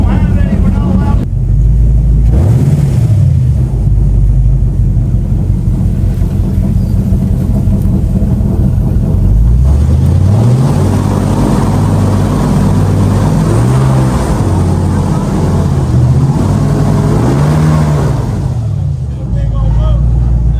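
A boat engine runs loudly and steadily close by on an alligator-inhabited waterway, its pitch rising and falling as the throttle changes, with wind buffeting and voices underneath.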